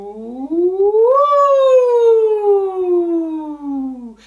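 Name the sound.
voice imitating a siren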